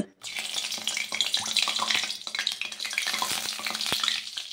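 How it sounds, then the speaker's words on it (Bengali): Tomatoes frying in hot oil with two bay leaves, seasoned with salt and turmeric, give a steady close sizzle with crackles and stirring clatter. "তেলের ওপরে দুটো তেজপাতা ফোড়ন দিয়ে টমেটোগুলো দিয়ে দিলাম। আর টমেটোগুলো নুন হলুদ দিয়ে খুব ভালো করে ভেজে নেব।"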